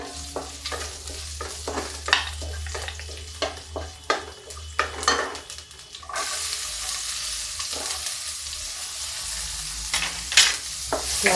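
Crackling sizzle of garlic and ginger frying in hot oil for masoor dal tadka, with scraping stirs; the sizzle swells louder and denser partway through.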